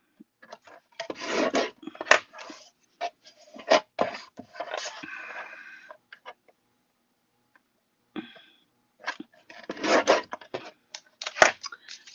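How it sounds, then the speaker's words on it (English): Scissors cutting through card stock for a pop-up block card, a series of short dry rasping snips in two bursts separated by a quiet pause, close and fairly soft with no talking. "you're going to cut off 3/4 of an inch off both sides"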